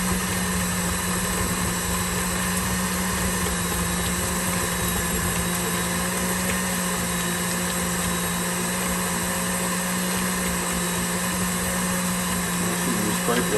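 An electric mixer creams butter in a bowl for strawberry cheesecake cupcakes, giving a steady, continuous motor whir that holds at an even level throughout with no pauses.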